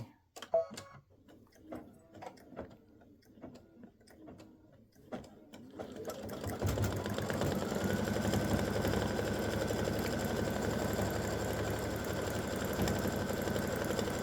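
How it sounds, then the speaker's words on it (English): A sewing machine stitching small satin stitch lines in dark gray thread for a tic-tac-toe game board, first with slow irregular ticks and clicks, then running in a steady close whirring hum. "So this will do a very small satin stitch for each of the lines that makes the tic-tac-toe squares"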